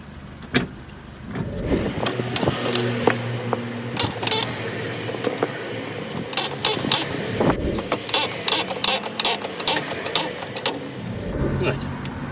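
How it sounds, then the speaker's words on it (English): Car jack ratcheting as a Mercedes SLK R170 is raised under the wheel hub during an upper wishbone ball joint replacement: uneven mechanical clicks and clunks, some sharp metallic taps, with someone talking over much of it. "I'm going to jack the car under the hub so that it squashes these two"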